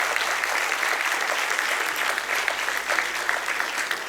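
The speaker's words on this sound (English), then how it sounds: "So a huge round of applause for all the volunteers." Steady, dense applause from a tech community event audience, continuous clapping at an even level throughout with no pauses.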